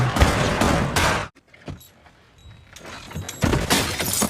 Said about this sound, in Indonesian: muncullah suara tembakan dari dalam